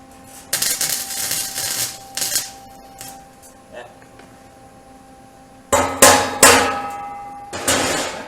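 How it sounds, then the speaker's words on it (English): Sharp metallic clangs ring out as a hammer strikes a steel replacement fender on a 1956 Jeep CJ5. Single blows and short bursts come between quiet gaps while someone talks nearby. "Push down with the hammer."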